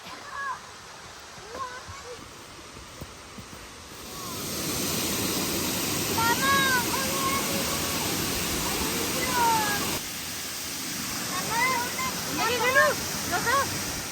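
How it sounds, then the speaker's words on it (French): A mountain waterfall roars as a broad, steady rush that swells in after a quieter start and continues to the end, with birds chirping above it and a voice speaking at times. "Les cascades, quel précieux cadeau de mère nature offert quasi exclusivement aux montagnes."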